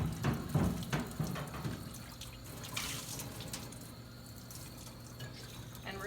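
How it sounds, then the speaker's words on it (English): Water runs and splashes in a kitchen sink while a pickle container is scrubbed with a sponge, with faint dripping and sloshing, soft and fairly close, with no voices. "I'm just going to take a sponge from by the sink and wash the container."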